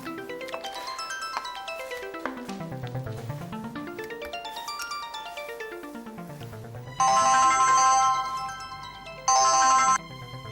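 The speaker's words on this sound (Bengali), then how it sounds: "ফোনটা ধরছিলে না কেন?" A melodic phone ringtone plays alone, rising and falling in a repeating tune, then a louder, harsher electronic ring bursts in twice near the end.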